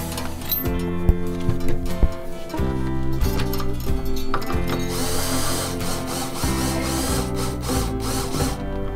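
A guitar string is plucked repeatedly while its tuning peg is tightened. Its tone steps between pitches as the tension changes, and faint creaks from the tuner mix in.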